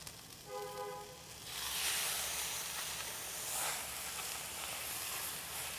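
Skirt steak searing on the hotter side of a griddle for carne asada hisses softly at first, then swells into a fuller, steady sizzle that carries on at low volume with no voices.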